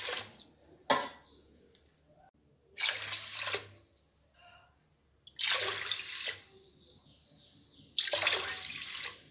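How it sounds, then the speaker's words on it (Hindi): Water pours in four separate bursts onto soaked rice in a bowl, each a short splashing gush of a second or so, with quiet gaps and light clinks between them. "इसमें पानी डाल देते हैं"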